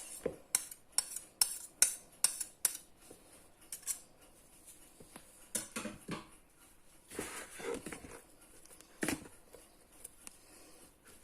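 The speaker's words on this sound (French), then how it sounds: "on va pré-mélanger les mousses avec les pâtes" A spoon stirs and scrapes sourdough starter into doughs in a bowl, giving a run of sharp, close clinks and knocks, dense at first, then sparser, wetter scraping strokes with no talk.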